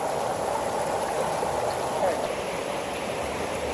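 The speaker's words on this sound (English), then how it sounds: "here's where the water is falling" Water spilling over a natural rock formation it has carved, a steady broadband rush close by with no pauses.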